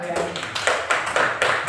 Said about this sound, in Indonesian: tepuk tangan buat Aryani